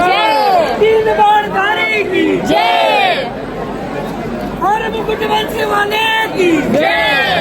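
A dense crowd of devotees at Khatu Shyam temple fills the space with loud chanting and calling voices that rise and fall in waves, with a steady babble underneath.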